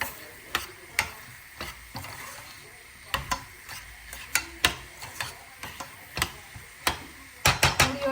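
Garlic tempering sizzling in hot ghee for dal, with a faint steady crackle broken by sharp clicks and scrapes of a spoon against the pan, close up and without speech.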